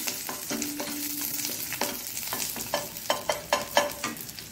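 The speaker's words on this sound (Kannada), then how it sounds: "ಇದರಲ್ಲಿ ಬೆಳ್ಳುಳ್ಳಿ ಫ್ರೈ ಆಗುವಾಗ" Garlic sizzles in hot oil in a pan for a Mangalorean hog plum dish, a steady close crackle broken by a run of sharp scraping stirs and clicks that grow more frequent toward the end, with no talking.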